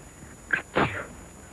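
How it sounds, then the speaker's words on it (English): A young girl sneezes once, a small catching breath followed by a sharp burst, close and fairly quiet against a faint hiss from an old 1936 film soundtrack. "My goodness, she sneezed."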